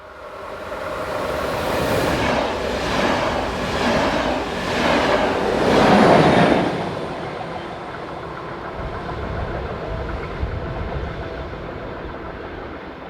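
ÖBB class 1144 electric locomotive at the rear of a red-and-cream commuter train rolls past, a steady rumble swelling to a peak mid-pass with rhythmic wheel beats, then fading gradually as it recedes.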